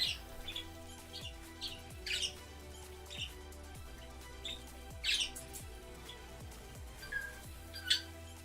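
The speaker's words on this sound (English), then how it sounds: "There is a bird in the background. He is being noisy." A pet bird chirps and squawks in short, irregular bursts in the background of an indoor room, with faint steady hum underneath.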